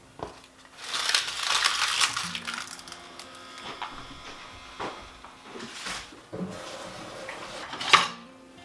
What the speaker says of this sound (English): So I'm going to kind of break up the ground beef a little bit